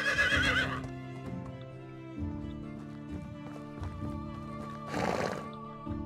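A horse in the video game Medieval Dynasty whinnies loudly twice, a shrill shaking call at the start and again near the end, with soft hoof clops and a sustained musical drone underneath.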